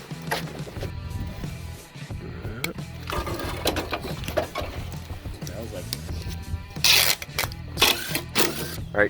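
An impact wrench spins off 7/16 bolts on an old scrap-yard lawnmower, sounding in short rattling bursts alongside clanks and shop noise, with loud hammering bursts toward the end and someone talking over it.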